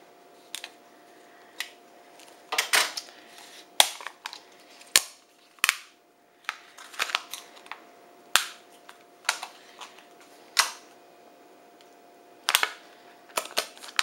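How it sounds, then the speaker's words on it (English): An X-Acto knife cuts around the edge of a plastic cup, giving sharp, scattered clicks and snaps in irregular bursts. The sounds are close and fairly loud against a quiet background, and nobody speaks. "We just cut the edge of the cup."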